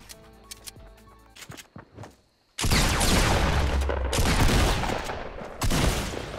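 Fortnite Battle Royale gunfire, a burst of dense, loud continuous firing that starts abruptly after scattered clicks and quieter shots, then roars on steadily to the end.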